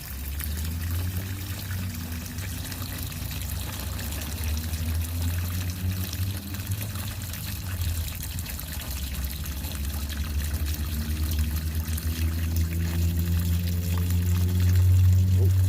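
Coolant pouring into a Toyota Tundra heater hose and radiator, a steady close gurgling trickle of liquid with a low continuous hum underneath, rising slightly toward the end.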